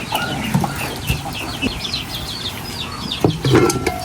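Captured wild chickens cluck and chatter nearby, with scattered short calls over an outdoor background and some bumping noises.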